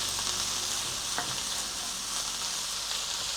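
Liver sizzles and spits steadily in a hot frying pan, a continuous close hiss with brief crackles and one sharper pop, no voices.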